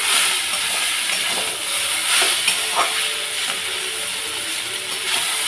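Chow mein being stir-fried and tossed in a pan, a steady sizzle with scraping and clinking of the utensil against the metal, continuous and fairly loud with no talking.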